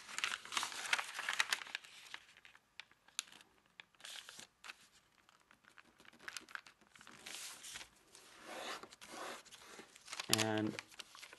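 Sheets of origami paper being folded and creased for a heart flasher model, producing soft crinkles, rustles and crisp creasing sounds in bursts, with a short sharper crackle near the end.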